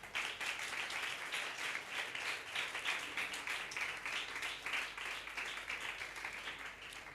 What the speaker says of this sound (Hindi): अपने लिए जरा तालियां बजाएं ना